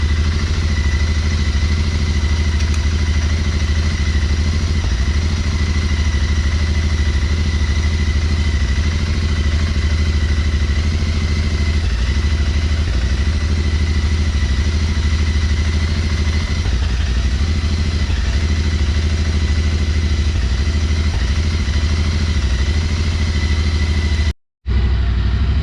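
A Royal Enfield Interceptor GT 650 fitted with a new high-flow air filter idles steadily up close, its parallel-twin engine holding a loud, even, continuous rumble with light mechanical clatter, cutting out abruptly just before the end.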